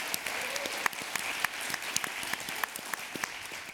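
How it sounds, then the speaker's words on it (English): An audience at a climate summit applauds with a dense, even patter of many hands, fairly quiet and distant, running steadily without voices. "Please give a round of applause to Anita Faith Cruz."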